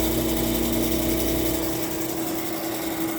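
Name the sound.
air conditioner compressor running after start-up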